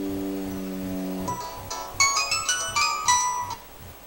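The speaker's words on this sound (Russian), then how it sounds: "Видите, телефон производит звонок." A mobile phone rings with a melodic electronic ringtone for an incoming call placed by a homemade GSM alarm, starting with a sustained tone and then a sequence of bright chiming notes, clear and close, without speech.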